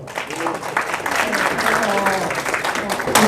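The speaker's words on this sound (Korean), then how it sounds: "박수 한번 주세요" Short burst of audience applause at a talk on home buying and housing subscriptions, with steady clapping mixed in among voices and crowd murmur.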